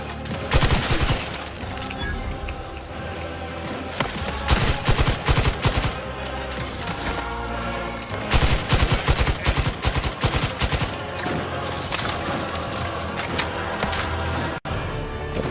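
Dense, rapid automatic turret gunfire from The Outer Worlds, with sustained bursts of shots and booming impacts that run loud and continuous across the whole stretch, swelling in heavier volleys.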